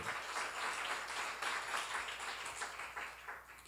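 A congregation at a church seminar claps together in a steady, moderately quiet burst of many hands that lasts a few seconds and fades slightly at the end.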